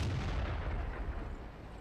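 Tank cannons fire in the World of Tanks video game, a loud, dense rumbling barrage of booms that carries on without a break for the whole short stretch.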